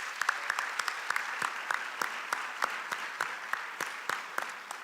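A round of applause at a high school senior academic awards evening, steady mid-distance clapping from an audience with sharp individual claps standing out, continuing for several seconds.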